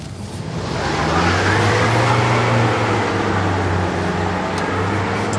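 A front-wheel drive Jaguar X-Type strains up an icy slope. Its engine drones at a steady low pitch under a broad rushing noise that swells and then holds loud and constant.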